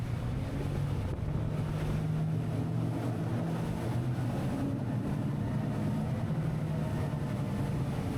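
A Wellcraft 28 T-Top motorboat's engine drones steadily beneath heavy wind noise and rushing water, constant and close throughout, as it turns in a narrow channel.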